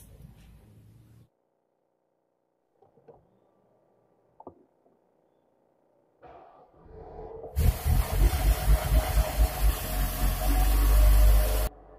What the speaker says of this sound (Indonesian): setelah mesin dihidupkan, nampak mesinnya tidak lancar, agak berat waktu dihidupkan. Dan suara raungan mesinnya terlalu kasar.